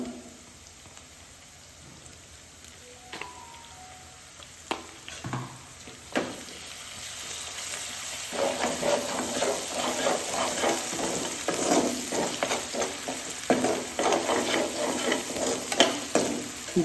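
Chicken fries in a pan with ginger garlic paste, a soft crackle that swells about halfway through into a dense, continuous sizzle. Occasional stirring clatters break through the sizzle, and no voices are heard.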